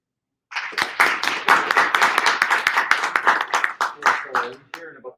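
Audience clapping at a programming meeting, a dense burst of applause from a room of people lasting several seconds before tapering off near the end.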